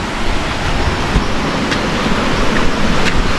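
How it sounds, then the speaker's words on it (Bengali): Water rushes in a loud, continuous roar at Gachkata Chhora waterfall in Bilaischari, Rangamati, a dense steady wash of noise with no break. "এই যে ঝর্ণার পানি আসতেছে"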